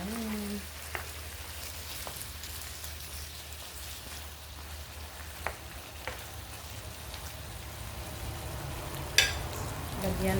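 Chicken adobo cooking in Sprite comes to a boil in a covered pot, giving a steady low bubbling hiss with a few soft clicks scattered through it and no voices.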